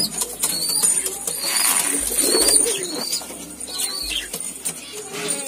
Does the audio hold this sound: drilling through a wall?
no